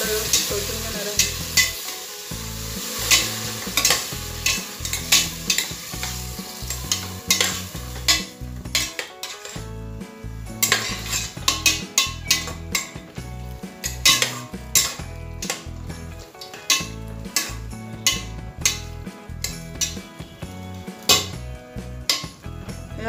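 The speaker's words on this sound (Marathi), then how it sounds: "आता आपण हे व्हेजिटेबल्स यात घालून घेणार आहोत। याला व्यवस्थित परतून घेणार आहोत।" Vegetables being stir-fried in a pressure cooker for masala pulao, with steady sizzling and repeated scraping and clanking of a metal spoon against the pot, close and continuous.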